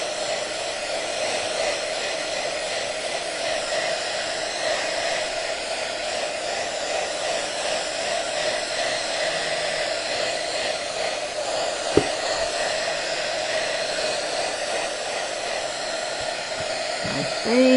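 A hair dryer blows a steady, continuous roar at close range while drying crackle paint on a craft piece, holding an even pitch throughout, with a brief knock partway through.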